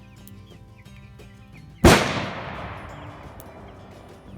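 A single sharp gunshot cracks from a nearby shooting range behind the property, loud and sudden with a long echoing tail, over faint chirping of young chicks and quiet background.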